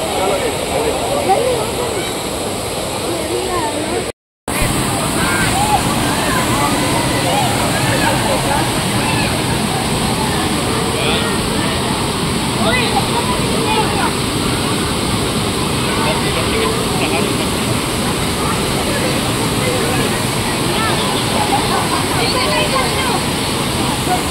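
A loud, steady roar of rushing water from a waterfall in Wayanad that continues without a break, with one brief moment of silence near the start.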